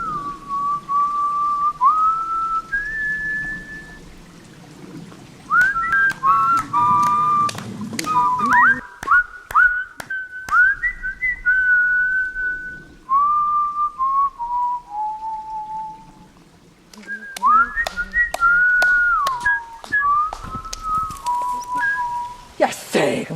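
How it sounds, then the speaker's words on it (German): A person whistles a wandering, melodic tune in a comedy sketch, the whistling close and prominent, broken by sharp knocks and clatter, with talk and background noise underneath. "Was soll denn das Gepfeife?"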